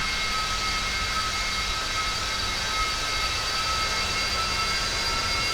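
Steady jet engine roar from a medium-sized business jet in the X-Plane 11 flight simulator, a constant broadband whine with high tonal hum running unbroken and fairly loud throughout, no voices.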